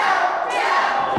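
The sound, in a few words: wrestling crowd yelling for a tap out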